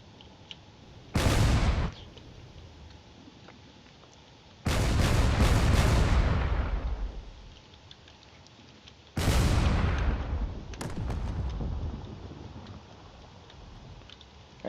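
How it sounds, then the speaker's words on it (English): A Corvette firing missiles in a video game space battle: three loud booming launches with rumbling tails, spaced several seconds apart, each with a sharp onset and a slowly fading roar over a low background hum. "that Corvette is spewing missiles constantly"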